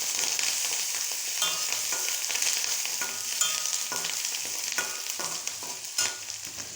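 Onion and coconut sauté in a pan with a steady, bright sizzle and frequent light scraping stirs, close and continuous, with no one talking.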